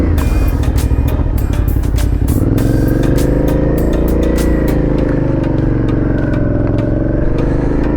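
Suzuki V-Strom 650 adventure motorcycle engine fires up and revs, a loud, close mechanical roar with rising and falling pitch and steady clatter throughout, no talk.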